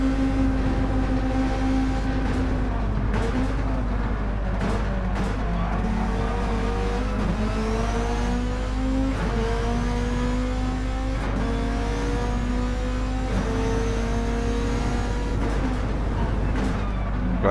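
A Volkswagen Beetle racing in Gran Turismo 7 during a Bug Cup endurance race, its engine droning and revving steadily through upshifts, with rising and falling tones layered over a constant low rumble for the whole stretch.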